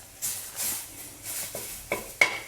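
Southern Thai curry paste is dry-roasted in a pan, with soft sizzling swishes and a few sharp scraping clinks of a spatula, quiet and close.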